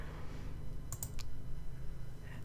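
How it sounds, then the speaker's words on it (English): Quick mouse clicks on an OK button in Audacity, two or three sharp close ticks in a row over a steady low room hum, with no talk. "So then we're going to click OK"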